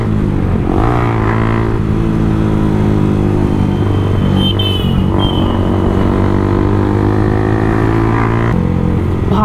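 A motorcycle with a loud aftermarket exhaust pulled away at high throttle on a group ride, a loud, close engine roar with rising and falling revs throughout.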